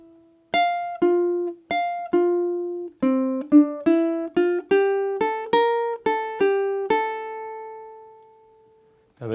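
A ukulele plays two bars of a jazz rhythm tune, a series of plucked notes and short chords in a steady swing, each decaying quickly, close and clear with no talking.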